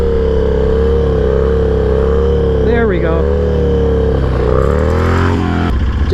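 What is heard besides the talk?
Harley Sportster engine revving while throttling up for a wheelie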